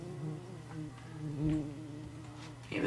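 Wasps in a Minecraft modpack hum with a steady, low droning buzz that swells slightly and fades, moderately quiet and continuous with no talking.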